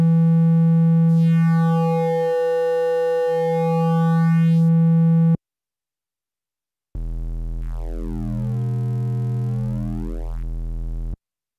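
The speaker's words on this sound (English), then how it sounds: "Triangle wave sounds like this." A Korg Monologue analog synthesizer oscillator on a triangle wave sounds two smooth, mellow sustained notes, each with a sweeping timbre, separated by a brief silence.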